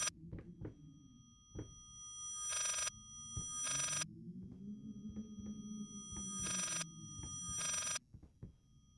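A telephone rings inside the horror video game Layers of Fear, with repeated bursts of bright ringing over a low droning ambience and scattered creaks and thuds, and no talking.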